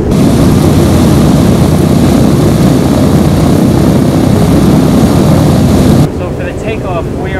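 Loud, steady roar of a B-17 bomber's piston propeller engines during takeoff, heard from just behind the pilots in the cabin, droning continuously before dropping abruptly to a quieter hum near the end.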